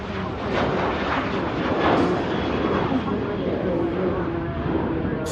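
A Ryanair airliner departs Manchester Airport with a loud, broad engine roar that swells and holds steady throughout.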